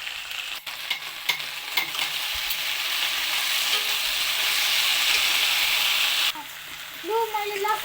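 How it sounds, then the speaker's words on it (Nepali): Garlic and ginger sizzle loudly in hot oil while being stirred, a steady frying hiss with scraping stirs that cuts off near the end, followed by brief speech. "लु, लसुन पनि राखेर अब एकछिन चलाउँछु।"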